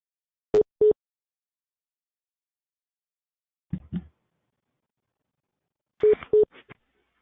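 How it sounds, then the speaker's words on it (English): Phone line left on hold during a conference call, giving short isolated electronic beeps and clicks in a few separate bursts with long silent gaps between them. "Someone seems to have us on hold on their phone."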